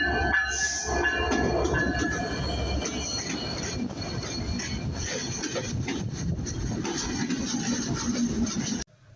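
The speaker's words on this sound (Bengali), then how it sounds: "সবেমাত্র ট্রেনের দেখা পেলাম।" A train pulls into a station in Bangladesh on an overnight route toward Khulna: a loud, continuous rumble of rolling wagons with metallic rattling and a brief high squeal near the start, holding steady until it cuts off abruptly at the end.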